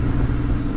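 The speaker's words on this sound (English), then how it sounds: "It's the quietest Lamborghini I've ever heard." A Lamborghini engine runs quietly without revving, giving a steady, close, low rumble that holds even through the short moment with no voices.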